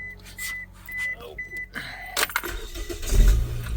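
A Hyundai Accent car engine cranking and starting, heard after a series of short electronic chimes and key jangling, close and fairly loud, then settling into a running rumble.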